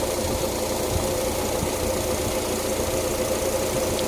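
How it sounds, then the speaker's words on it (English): A 2007 Suzuki SX4's small four-cylinder engine idles with a steady, even rumble and faint knocking, close by and continuous with no talk. "There's the engine."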